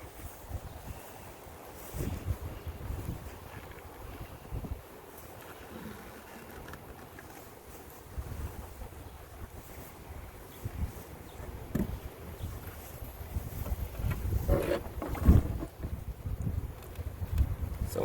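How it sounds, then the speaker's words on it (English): Gusty wind buffets the microphone beside an outdoor beehive, a steady low rumble with louder surges, strongest near the end; no voices. "So it's a little bit windy today. I don't know if you can hear really well"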